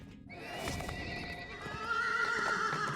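Horse in a Forgotten Realms video game giving a long, clear neigh over clip-clopping hooves, close and fairly loud against a windy background.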